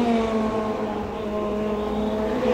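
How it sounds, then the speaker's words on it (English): Touring race cars on the narrow Pau street circuit during a World Touring Car Championship round, a continuous loud engine drone with steady high revs, the cars close and sustained throughout. "Closing stages of round 7 of the World Touring Car Championship here at Pau, and Alain Menu making it all look"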